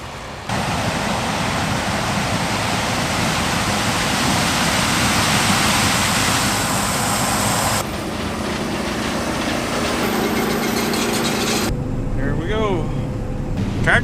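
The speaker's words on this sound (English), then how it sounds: "Tim's driving the combine right now, selling corn." A steady, loud mechanical roar of a John Deere combine harvester harvesting corn at night, running continuously, with a brief change in tone partway through and some faint chirps near the end.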